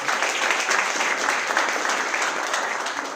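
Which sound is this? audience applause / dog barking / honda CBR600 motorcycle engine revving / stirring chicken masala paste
audience applause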